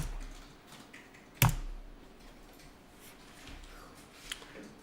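Someone types on a computer keyboard to search an accounting code, with one sharp, loud click followed by light, sparse key taps at close range.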